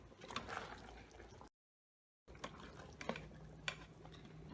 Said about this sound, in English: I'm gonna keep stirring, and that spinach is really gonna cook down in just a minute here